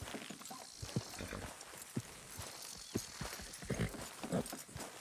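A horse in the video game Red Dead Redemption 2 gives off soft, irregular hoof clops and thumps with shuffling and faint background noise, and no speech is heard.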